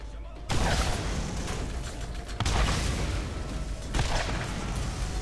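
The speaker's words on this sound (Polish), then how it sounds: "jaki wybuch" Explosions boom in the Borderlands video game, several heavy blasts spaced a couple of seconds apart under dense rumbling game noise.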